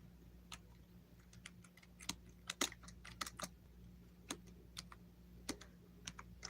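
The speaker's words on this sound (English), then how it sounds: "I'm typing it in." Fingers tap a computer keyboard in irregular bursts of crisp, quiet clicks, close to the listener, with a faint steady hum underneath.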